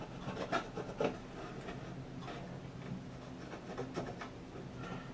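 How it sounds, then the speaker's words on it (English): A pencil marks a wooden fence picket for a planter box build, a few soft close scratching strokes with light taps over quiet background. "I'll just go ahead and put a little mark."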